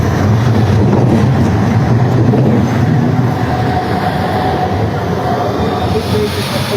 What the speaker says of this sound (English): I'm going to wait for the tram to go by.